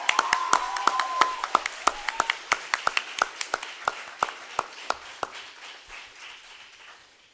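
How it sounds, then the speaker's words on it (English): Scattered hand claps from a small audience at the closing ceremony of a law school international negotiation competition, sharp distinct claps that thin out and fade toward the end, with a faint tone beneath. "can we have a round of applause for the media team?"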